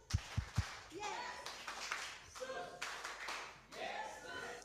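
A church congregation at a Sunday service claps three quick sharp beats, followed by speech and singing voices over a quiet room.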